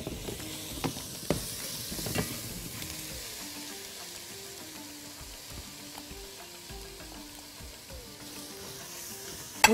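Peppers and onion sizzling in a pan with rosemary, a soft, fairly faint frying hiss with a few early knocks and scrapes of stirring, then a quieter, steady sizzle that fades gently toward a final clack.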